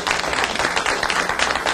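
A dense round of applause for a project team at a county ribbon cutting for a new Emergency Operations Center: many hands clapping steadily and close, a continuous crackling wash with no pause.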